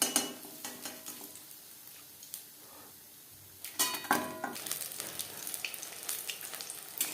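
Pumpkin flower fritters (bora) frying in oil give a soft background sizzle, broken by sharp clinks and scrapes of a utensil against the pan, with a brief quieter lull midway.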